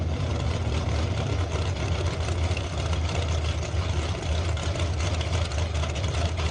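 An early geared Mustang drag racing car idles at a raceway, a steady deep rumbling engine drone that stays close and constant throughout with no talking.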